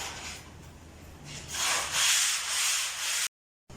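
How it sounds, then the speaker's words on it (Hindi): A wet brush dipped in water scrubs old, lifting paint off a wall while the surface is prepared for house paint. It makes a steady, rough rasping that swells louder midway, then cuts off abruptly. "अब आप देख रहे हैं कि ये जो पुराना पेंट है उसको कैसे उतार रहे हैं। उसके लिए ये एक गीला ब्रश फेर रहे हैं"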